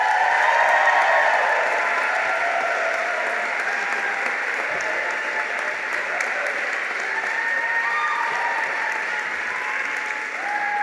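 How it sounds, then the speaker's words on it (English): A large audience claps and cheers steadily through the whole stretch at a college opening convocation, a dense, even wall of applause with no talk over it. "my cheer wasn't as big as Sophia's"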